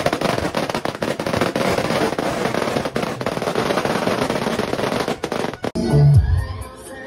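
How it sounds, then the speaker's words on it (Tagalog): New Year fireworks and firecrackers pop in a dense, continuous crackle of rapid bursts, loud and close, ending with a deep boom. "natatakot siya sa mga paputok na naririnig niya"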